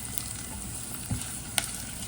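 Garlic and ginger sizzle and fry in a pan for chicken adobo, a steady close hiss with a faint stir scrape and one small clink.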